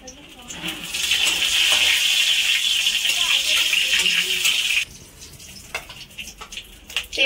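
Whole garam masala and bay leaves hit hot oil in a home kitchen while mutton is being cooked, giving a loud, hissing sizzle for about four seconds that then drops to quieter crackles and kitchen noise.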